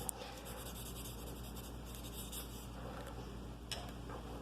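Graphite pencil strokes drawn across paper in crossing directions while shading a tonal drawing, a steady scratchy rasp that continues without a break, close and moderately quiet, with no voices.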